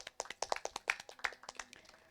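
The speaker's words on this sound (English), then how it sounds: "Can we please have a round of applause for her?" A modest round of clapping from an audience at a literature and art festival, steady overlapping claps at close range that thin out and trail off toward the end, quiet overall.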